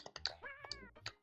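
A cat meows once in the Dennis the Menace SNES game, a short rising-falling cry amid quick clicking and tapping sounds.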